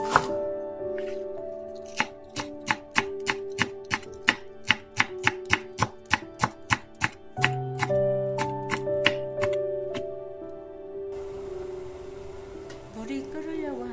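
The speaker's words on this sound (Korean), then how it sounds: "물이 끓는 동안 대파를 썰어줄게요." A knife chops green onions on a cutting board in a fast, even run of sharp, close taps that pauses briefly and then resumes, with a faint background tone and a little handling noise at the end.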